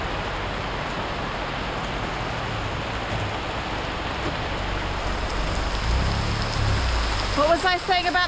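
Heavy rain pours steadily with a dense hiss, growing a little louder near the end, where a voice briefly speaks.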